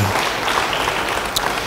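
A church congregation applauding, a brief burst of dense, even clapping that holds steady for under two seconds.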